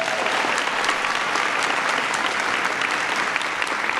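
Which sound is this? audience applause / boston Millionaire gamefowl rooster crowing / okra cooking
audience applause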